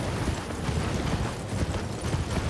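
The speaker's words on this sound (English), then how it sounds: "let's jump on the horse" Horse hooves gallop in the video game Elden Ring, a steady, rapid drumming of hoofbeats over a dense rumbling background, continuous and fairly close, with no talking.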